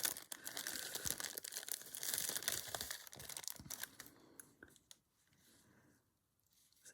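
A plastic bag crinkles and rustles up close as a small doll is pulled out of it, busy crackling for several seconds and then tapering off into near quiet.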